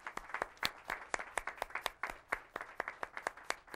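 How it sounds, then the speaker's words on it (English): A television talk show studio audience gives a round of applause, a steady, fairly close patter of many hands clapping with sharp individual claps standing out, continuing without a break. "a round of applause"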